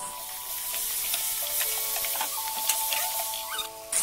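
Finely chopped tomato hissing and sizzling in a hot pan for a beef liver pepper fry, a steady close frying crackle with faint stirring scrapes throughout.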